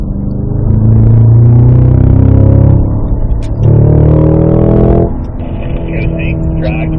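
A Cadillac CT5-V Blackwing with a six-speed manual runs under light throttle on the Spring Mountain track in Pahrump, giving a loud, steady engine drone that eases and swells, while a driver talks over it.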